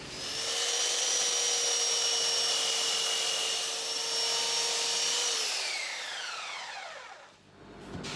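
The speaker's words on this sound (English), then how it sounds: "by using the belt sander just to kind of get rid of some of the unevenness between the panels that occurred during the glue up" A belt sander runs steadily on glued-up wood panels with a loud, even whine, then winds down in pitch near the end as the motor stops.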